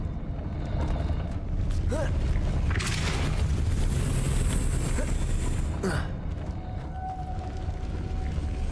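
In the Hogwarts Legacy video game, a Depulso spell blasts out as two forceful whooshing booms several seconds apart over a constant rumbling game ambience, with faint vocal sounds in between.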